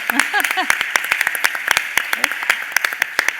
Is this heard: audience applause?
yes